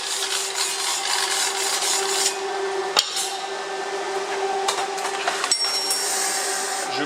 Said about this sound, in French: Un coup de brosse métallique.